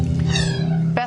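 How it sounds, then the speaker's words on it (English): A pet cat meows close by in one drawn-out call that fills most of the second, ending in a short, sharper rise. "That was our cat"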